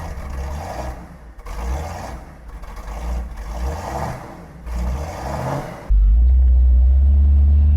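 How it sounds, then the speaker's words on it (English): A 1968 Ford Mustang S-code 390 big block V8 convertible drives past with a loud rumbling exhaust that surges in rhythmic pulses, then settles into a steady, heavy low drone close by. "Doesn't get much better than driving a Mustang big block convertible on a day like today."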